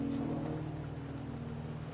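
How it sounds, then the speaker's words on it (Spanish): Light steady rain patters in the video game Wuthering Waves over a low humming game background, brief and moderate with no speech. "Una lluvia normal."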